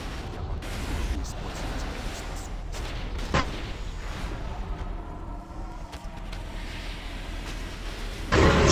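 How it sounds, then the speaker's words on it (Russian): Video game battle din aboard a ship under cannon fire, scattered deep cannon booms, one sharp blast standing out, over a continuous low roar. "Корабль под обстрелом. Заклинатели сюда, пусть заткнет эти пушки."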